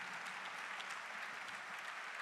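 Steady audience applause fills a conference hall during an opening ceremony, a dense, even patter of many hands clapping at moderate distance with no break.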